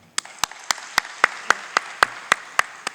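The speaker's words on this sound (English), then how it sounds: "I think she deserves another round of applause." An audience at a fireside chat in Dallas claps at a steady, even beat, about ten sharp near claps with nothing else heard between them.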